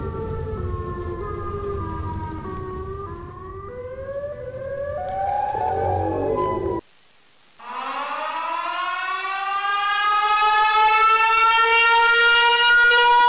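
Loud wailing siren tones in a horror video game, from the Siren Head creature: one warbling pattern, then a brief gap before a long rising, sustained siren howl that fills the rest.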